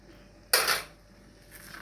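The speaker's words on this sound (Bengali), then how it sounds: "তো আমি এই চামচটা দিয়ে নাড়বো" A spoon scrapes and clinks against a pot of cooked chicken, one sharp metallic stroke followed by a fainter second scrape, close and quiet.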